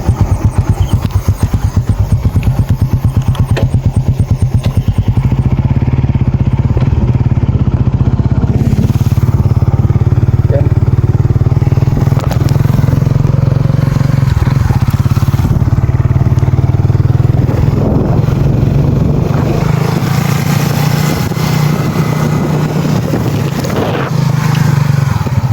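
A motorcycle engine runs continuously at close range, with a steady low drone and a loud mechanical hum that stays unbroken throughout, and no talking is heard over it.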